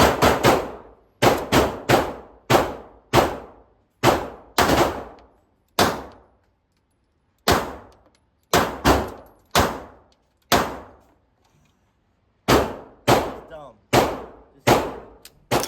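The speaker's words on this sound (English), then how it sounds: "Super simple, 9mm reloads. We're gonna shoot out." A Springfield Armory Prodigy 2011 subcompact pistol fires light 9mm reloads at an outdoor range, with sharp, loud single shots in uneven strings and pairs separated by short pauses.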